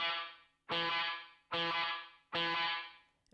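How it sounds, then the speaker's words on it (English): Electric guitar played through a reverb placed ahead of distortion in an effects loop, three loud strummed chords each blooming into a thick, distorted, washed-out reverb tail that decays before the next hit. "It kind of distorts a lot of the reverb and almost kind of washes out the entire sound of it."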